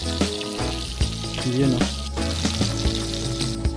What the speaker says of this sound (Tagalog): prituhin natin ang bangus